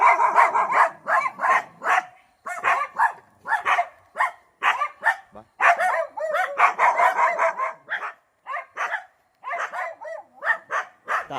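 Several dogs barking repeatedly in quick, uneven bursts near a house in the middle of a forest, loud and close, with short pauses between volleys and no talk over them.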